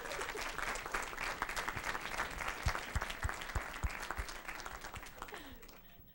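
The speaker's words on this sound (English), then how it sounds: "one more round of applause for these outstanding students" Audience applause for outstanding students at a Board of Education meeting: sustained clapping from a room full of people, a few louder nearby claps standing out before it tapers off.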